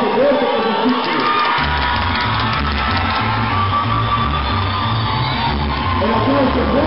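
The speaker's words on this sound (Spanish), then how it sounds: "Un aplauso fuerte por sus títulos." A crowd cheers and shouts loudly and continuously at an outdoor event in Chietla, with whoops and raised voices layered over a steady low rumble.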